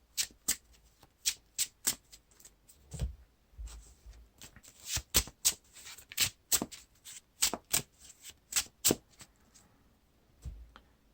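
Playing cards shuffled by hand for a Lord of the Rings card game: a close, crisp run of riffles and snapping cascades, roughly a dozen sharp bursts in uneven rhythm, with no voices.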